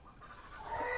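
A young chicken clucks softly and continuously, close but fairly quiet, with no talk over it; the sound swells slightly toward the end.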